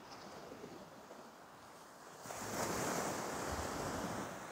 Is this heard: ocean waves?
yes